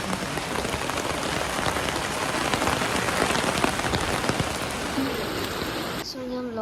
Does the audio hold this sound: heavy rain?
yes